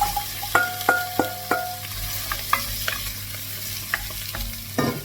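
Roughly chopped carrot, onion and skin-on garlic frying in a pan for slow-cooked beef cheeks, a soft sizzle under a series of distinct clanks and scrapes as the veg is stirred, close up with no talking.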